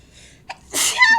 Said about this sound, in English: That's when the sneeze.